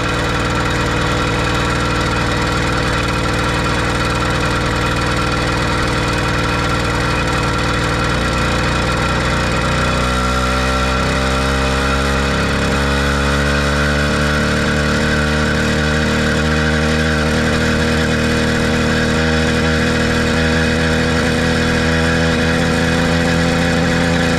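A Kent Sea Change 80cc motorized bicycle engine runs steadily and loudly up close, a constant buzzing two-stroke drone that shifts pitch partway through as the revs change, with no talking.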